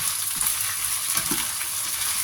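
Snow peas stir-frying in a pan with fish, a loud, continuous sizzle and hiss, the frying briefly stirred, with no talking.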